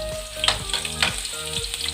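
Garlic frying in hot cooking oil, a close, continuous crackling sizzle with occasional spoon or spatula stirring sounds and short sharp pops.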